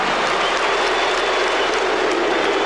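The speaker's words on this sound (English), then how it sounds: "Luke Longley hearing the chants from the crowd." Basketball arena crowd at a 1996-97 Bulls versus Knicks game, a dense, loud, continuous roar of cheering and chanting that fills the space with no break.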